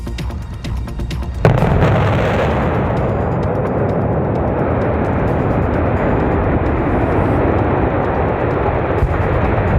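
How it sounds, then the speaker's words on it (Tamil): A 117-metre cooling tower is demolished with explosives in Germany: a sudden deep blast after a short lead-in, then a sustained loud roaring rumble that continues without letting up. "117 மீட்டர் உயர கோபுரம் வெடிபொருட்கள் வைத்து இடிக்கப்பட்டது"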